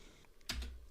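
A single quick keypress on a computer keyboard while entering a password in a Linux terminal, a soft close click against faint room hiss, with no voices.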